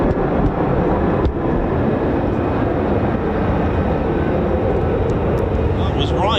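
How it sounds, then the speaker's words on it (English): F-35 fighter jets at RAF Lakenheath, a US Air Force 48th Fighter Wing base, fill the air with a loud, steady broadband jet roar that holds for several seconds, close and unbroken, with a faint voice mixed in. "Sounds like F-35s."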